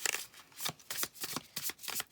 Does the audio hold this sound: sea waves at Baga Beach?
no